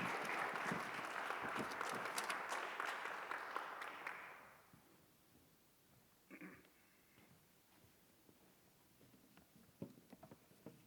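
A church congregation at a young adults' worship service at Namsan Church applauds loudly and warmly for about four seconds. The clapping then fades into quiet, with a few faint later sounds.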